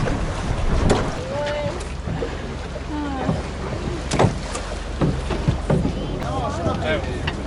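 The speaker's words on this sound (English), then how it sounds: "so we're crossing over the river now in this little gondola boat" A small gondola ferry boat crosses a river in Venice, with water sloshing against the hull and breezy outdoor noise, while nearby voices chatter and call out over the steady wash.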